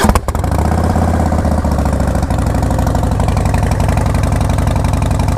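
A 2016 Harley Davidson Breakout fitted with a stage 1 Bassini exhaust fires up and settles into a loud, close, loping idle, its deep uneven potato-like pulse steady throughout.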